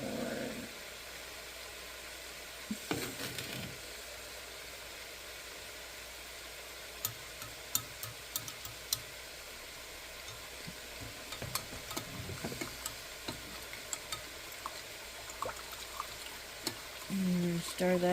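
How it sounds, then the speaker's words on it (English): Chicken stir-fry with rice sizzling in a pan, a soft steady hiss with scattered sharp clicks and scrapes of stirring, plus occasional louder bumps. "And stir that up like so."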